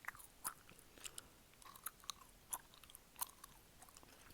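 Soft close-up gum chewing with moist clicks and smacks in an irregular rhythm, quiet and alone.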